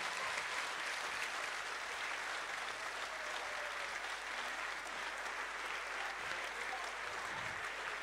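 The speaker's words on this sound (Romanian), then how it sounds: "Aplauze pentru ei." Steady, sustained applause from an audience at a dance school gala, a dense wash of clapping filling the hall at moderate distance with no break throughout.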